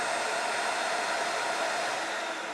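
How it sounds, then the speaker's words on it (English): A workshop sander triggers a dust collection vacuum, giving a loud, steady, even whoosh that runs unbroken from start to finish with no talking. "if I turn on this sander here, it turns on the vacuum"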